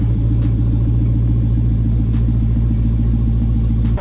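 A 1971 Hellcat Cuda convertible restomod rolls out of a paint booth, its engine idling with a steady, deep, close rumble throughout.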